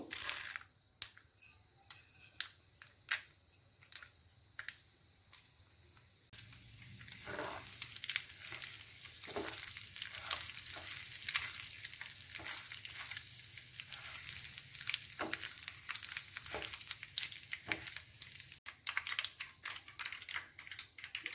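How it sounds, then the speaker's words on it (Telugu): Mustard seeds and chana dal frying in groundnut oil for tempering tomato pachadi, a steady close sizzle with scattered sharp pops and crackles throughout, no talk. "తాలింపుకి శనగ నూనె వేస్తున్నానండి"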